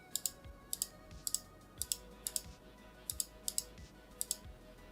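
Key clicks on an Aula Hero84 magnetic keyboard, sounding as a steady run of crisp, fairly quiet paired taps spaced about half a second apart, with no voices.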